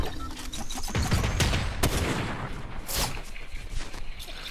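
Rapid bursts of gunfire crackle in a Fortnite match, dense overlapping shots with one sharper crack and a later loud burst, all close and busy with no speech.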